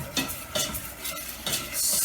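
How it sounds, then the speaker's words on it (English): Homemade playdough mixture being stirred in a pot, giving repeated scraping, swishing strokes with a faint sizzle, close and fairly quiet with no talk. "Stir it pretty constantly, and it should, if this all works out well, make a nice dough."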